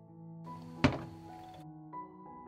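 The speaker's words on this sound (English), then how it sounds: "I put the pan down on the stove." A pot holding jars in water set down on a stove, a single sharp thunk near the start and a lighter knock after, with no one speaking.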